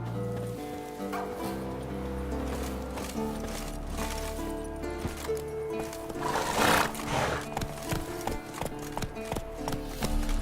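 Roach the horse in The Witcher 3 trots with rhythmic clip-clop hoofbeats that build to a louder snort and neigh near the middle, with a game score playing underneath.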